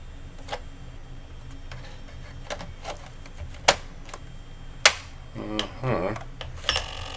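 A TI-99/4A computer with its speech synthesizer gives off sparse ticks and clicks with a brief whirring burst near the end, faint and close in a quiet room.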